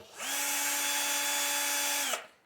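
A Holikme power drill spinning a cleaning brush whirs steadily at high speed for about two seconds, then winds down abruptly; close and loud, no talking.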